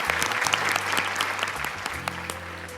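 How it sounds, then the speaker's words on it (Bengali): A studio audience on a Bangladeshi family reality-show set gives loud, sustained applause for all the contestants, with dense clapping throughout and a faint undertone of crowd noise. "এবার সবাই সবার জন্য একটা জোরে করতালি দেই।"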